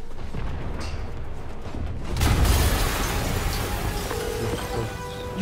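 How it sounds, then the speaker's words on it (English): A sudden loud blast from the Marvel's Spider-Man video game cuts through a crackling, rumbling backdrop, followed by lingering debris and mechanical noise with no talking. "an explosion just..."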